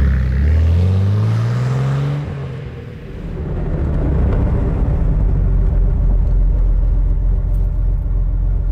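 A 1956 Mercedes 300 SL Gullwing engine with sidepipes revs up loudly, then drops back, and settles into a deep, rumbling idle close by.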